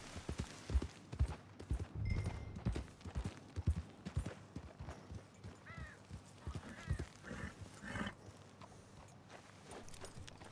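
Horse hooves clip-clop at a steady walking rhythm in Red Dead Redemption 2, close and fairly loud, with other game sounds and brief noises layered around the footfalls.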